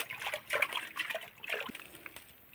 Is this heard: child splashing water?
yes